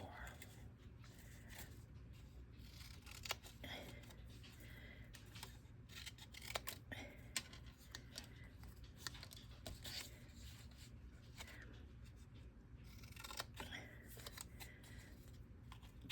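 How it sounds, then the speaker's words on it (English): Scissors snip through fabric pieces during fussy cutting for a quilt block, with repeated crisp cuts scattered over a steady low background hum. "so fun to be fussy cutting with you"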